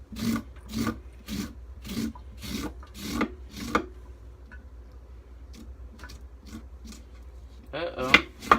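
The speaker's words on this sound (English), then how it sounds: "we're gonna continue to just scrape, scrape, scrape, scrape, scrape, and try to get all the stickers off" A knife scrapes spines off a cactus pad in a kitchen: a series of rhythmic rasping strokes, close and fairly loud, then quieter faint scraping and a few sharper clicks near the end.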